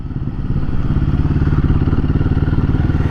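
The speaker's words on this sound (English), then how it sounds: "There's a scooter there," A scooter or small motorbike engine chugs close by with a steady, loud pulsing rhythm that swells after the first half second and holds, no talk over it.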